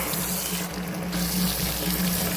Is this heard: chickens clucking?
no